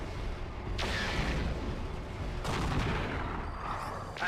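Heavy weapon fire in MechWarrior 4: Vengeance, two or three booming blasts rolling over a constant dense rumble of battle, fairly loud and with no talking.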